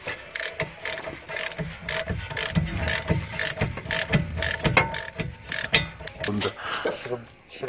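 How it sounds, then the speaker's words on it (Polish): Ratchet wrench clicking in quick, uneven bursts while loosening hub bolts on the rear of an Alfa Romeo 159 during a wheel bearing replacement, close and fairly loud with mechanical clatter and a voice speaking at times. "Ludzki sprzęt, grzechotka."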